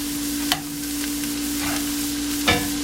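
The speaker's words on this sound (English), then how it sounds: "sausages cooking nicely" Italian sausage and ground turkey fry in a pan with a steady, loud sizzle, and a couple of sharp utensil clinks and scrapes break through as the meat is stirred.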